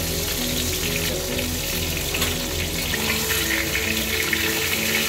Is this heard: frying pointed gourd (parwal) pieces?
yes